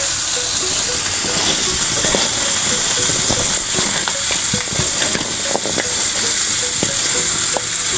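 Vegetable bhaji sizzles loudly in a frying pan, a dense, steady hiss of hot oil with scattered crackles and light stirring knocks throughout.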